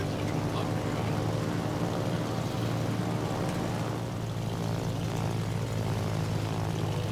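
Steady droning propeller engines of carrier aircraft in World of Warships, a continuous loud hum with no break, close and constant, with no talking over it.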